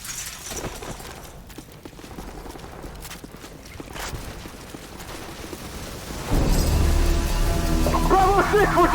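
Dense, crackling gunfire and clatter rattle through a Call of Duty 4: Modern Warfare battle, then a louder, harsher barrage with whining tones swells near the end.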